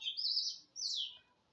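Two bright, high chirping calls from a small bird, each about half a second long, clear and alone against a quiet background.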